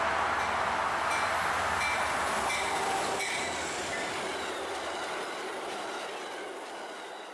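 An Amtrak 281 passenger train rolls past milepost 6.5 near Buffalo, New York: a loud, steady rumble of wheels and cars on the rails that gradually fades as it moves away.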